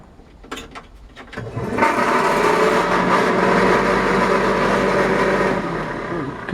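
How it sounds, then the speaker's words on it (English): Old heater fan in the dashboard of a 1953 Chevrolet 3100 pickup starts after a few switch clicks and settles into a steady close whirring hum with a slight rattle, then begins to wind down at the end. "the old fan does work"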